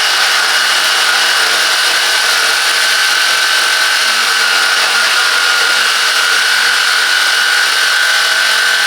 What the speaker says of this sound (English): this saber saw delivers power and precision every time